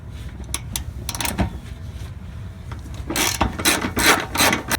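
A ratchet wrench clicks in short bursts as an 18 millimeter socket tightens the bolts on an S14 240sx cross member, the rapid ratcheting growing louder and denser toward the end.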